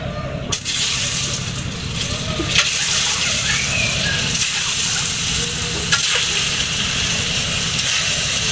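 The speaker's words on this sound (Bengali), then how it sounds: "এখন আমি ডিমটা দিব।" An egg fries in a hot pan with a loud, steady sizzle and hiss that jumps in intensity as it hits the oil, with occasional stirring scrapes and no talking.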